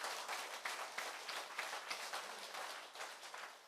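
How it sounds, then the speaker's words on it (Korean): Applause from an audience at a lecture, a fairly soft, dense patter of many hands clapping at a steady level with a few louder individual claps, tapering slightly at the end. "박수 한번 보내주세요"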